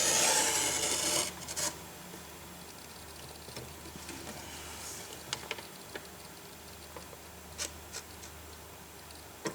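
A hand cutter slices through board for a 2-in-1 picture frame with a brief loud scraping stroke at the start, then fades into faint scattered ticks and light handling noises.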